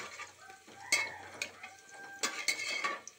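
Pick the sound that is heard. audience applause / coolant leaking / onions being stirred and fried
onions being stirred and fried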